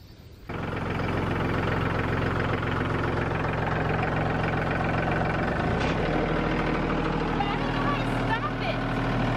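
A new tractor's engine starts and settles into a steady, loud diesel idle with a deep, even throb that holds close by for several seconds, with a brief shift in tone partway through.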